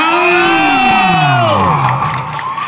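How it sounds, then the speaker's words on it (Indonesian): Loud crowd cheering and whooping at a semifinal volleyball match, sustained shouts and rising voices filling the whole stretch with no pause. "Berikan semangat, tepuk tangan penonton."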